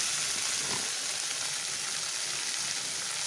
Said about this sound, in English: Let it fry for about a second or so.